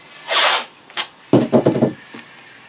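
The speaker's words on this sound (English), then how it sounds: "we're going to mask off all the trim with just regular old painter's tape" Painter's tape is pulled from the roll and laid along wood trim for masking, giving a long ripping peel followed by a short tug and a series of quick crackling pulls, close and clear with no talk.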